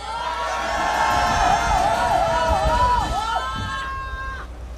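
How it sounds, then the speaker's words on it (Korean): A rain-soaked outdoor political rally crowd roars and cheers to welcome a law professor to the stage, a loud, continuous wall of shouts and whoops with whistling tones rising and falling above it. "여러분 큰 함성으로 맞이해 주십시오"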